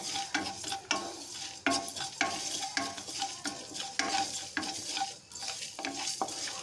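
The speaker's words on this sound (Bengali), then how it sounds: "এখন এই মশলাটা একটু নেড়ে নেবো কড়াতে তবে খুবই হালকা আঁচের মধ্যে এটাকে নাড়তে হবে" A spoon stirs olive pickle spice mix in a kadai over very low heat, giving steady close scraping and light rustling with a faint sizzle underneath, with no talking.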